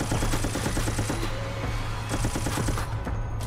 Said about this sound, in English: I just shot at him